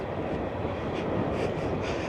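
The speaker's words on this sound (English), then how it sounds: "There's a train over there." Train passing near a park, heard as a broad, steady rumble and roar that fills the whole stretch at moderate distance, with no talking.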